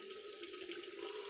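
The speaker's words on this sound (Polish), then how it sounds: "nabieram trochę mydła, a później to pod bieżącą wodą wypłukuję" Tap water runs steadily into a sink while a makeup brush is rinsed under the stream after being worked with soap, a continuous even splashing close by with no talking.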